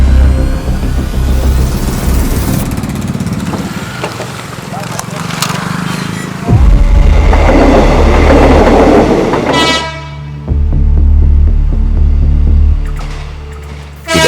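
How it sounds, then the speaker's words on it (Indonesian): A train rolls over a busy level crossing in Tambun Selatan, Indonesia, its heavy rumble and wheel clatter loud and close, with a horn blast and a brief break before the noise resumes. "ada lebih dari 300 perjalanan kereta yang melintas di perlintasan ini setiap harinya"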